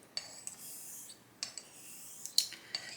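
Straight razor, a Shumate, stroked across a Chinese natural hone in a few quiet, separate scraping passes, each a short soft hiss with a light click of the blade as it turns, close by with no talking.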